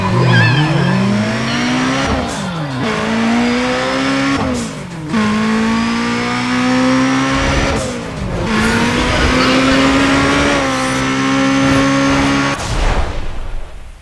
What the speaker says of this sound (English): Will you listen to this engine?